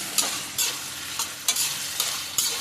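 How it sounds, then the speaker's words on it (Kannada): Ivy gourd and potato fry in oil in a pan, a soft steady sizzle broken by about six sharp scraping stirs at a brisk, regular pace, close up and without speech. "ಚೆನ್ನಾಗಿ ಫ್ರೈ ಆಗಲಿ ಎಣ್ಣೆಯಲ್ಲಿ."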